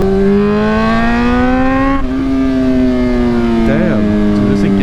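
A Honda F4i motorcycle engine revs loudly and climbs through the gears, its whine rising and resetting with each shift, heard close-up with a brief shift pause midway.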